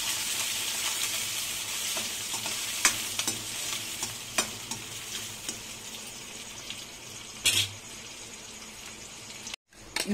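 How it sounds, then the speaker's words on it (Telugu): Chopped onions fry in a pan for a chole masala curry, a steady soft sizzle with occasional sharp clicks of stirring and a brief clatter near the end. "ఉల్లిపాయలు వేస్తున్నాయి ఇప్పుడు ముందుగా"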